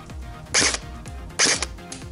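Two sharp airsoft shots from a Tokyo Marui MP5 fired at a 30-metre outdoor target, each a brief bright crack about a second apart, fairly close, with low background hum between.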